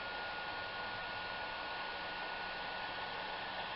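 A heat gun blows hot air onto a solder heat-shrink wire connector during a wiring harness repair on a rodent-damaged 2011 Ford F-150, giving a steady, even roaring hiss that holds unchanged for a few seconds, close and without voices.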